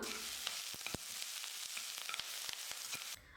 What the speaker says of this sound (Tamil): இது ரெண்டையும் சேர்த்துட்டு நல்லா வதக்கிக்கலாம்